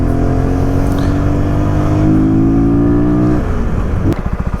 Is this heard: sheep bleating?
no